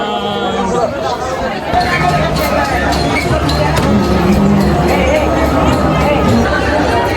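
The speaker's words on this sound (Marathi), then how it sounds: "गर्दी खूपच आहे गाईज" A large crowd of devotees at the Ambabai temple: dense, steady chatter and babble from many voices, close and loud throughout, with individual people talking within the hubbub.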